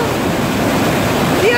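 Rushing water at the waterfalls of Edessa makes a loud, steady roar close by, with no break.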